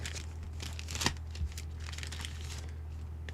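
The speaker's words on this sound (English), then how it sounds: "I'm going to take out this paper." A sheet of paper is pulled out and crinkled in a few quick, close rustling bursts over a steady low electrical hum.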